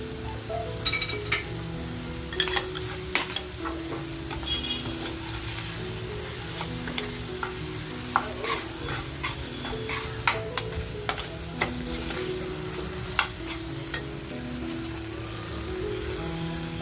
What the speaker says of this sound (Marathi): आता बघा जी हिरवी मिरची कापून घेतली आहे ती हिरवी मिरची टाकते